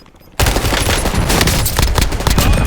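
Machine gun fire in the Call of Duty Warzone video game, a loud sustained burst of rapid automatic shots starting abruptly after a quiet moment and continuing dense and close.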